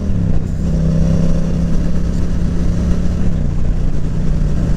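A motorcycle with newly fitted forks revs steadily on a chilly downhill stretch during a wheelie attempt, a loud, continuous engine drone close by with a faint rise and fall in pitch and no voices.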